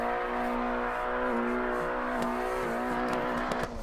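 A video game car doing a tight donut drift on a driving safety track, with a steady revving engine and tire squeal that holds for the whole stretch, close and constant.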